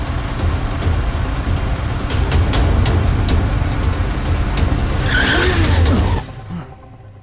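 A car turns sharply with its tires skidding, a loud, sustained engine and rolling-tire roar with a brief squeal near the end, after which it cuts off abruptly.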